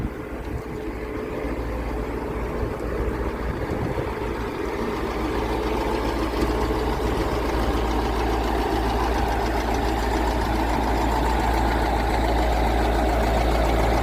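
A heavy diesel engine of a T-150 tractor idles steadily and close by, a continuous low rumbling knock that holds even throughout.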